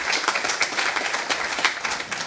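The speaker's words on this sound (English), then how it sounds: "I think they all deserve another round of applause" An audience breaks into another round of applause, a loud, dense burst of many hands clapping together, steady and close throughout with no voices over it.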